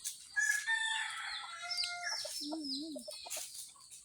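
Farmyard chickens on a farm in Mindoro, with a rooster crowing nearby and hens clucking in short bursts against a quiet background.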